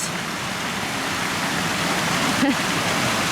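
Steady broadband rush of a waterfall with a ball caught in the falling water, continuous and fairly close, with a brief faint splash-like blip near the end.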